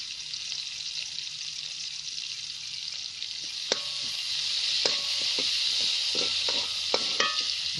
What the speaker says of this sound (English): We're going to add things to fry that we're going to add to our dal.